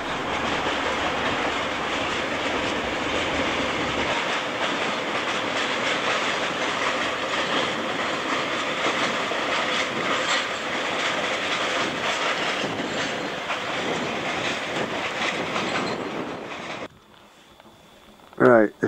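A long locomotive-hauled train climbing toward a summit in China rumbles steadily along the rails with a continuous clattering roar, close and loud, before dropping away to near quiet at the end.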